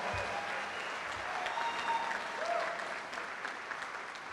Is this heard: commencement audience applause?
yes